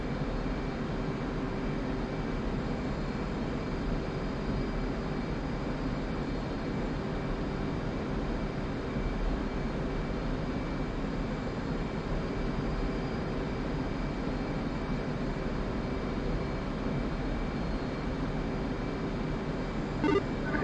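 Steady, loud jet engine drone in a flight simulator game, holding an even broadband roar with a faint tonal hum for the whole stretch and no speech.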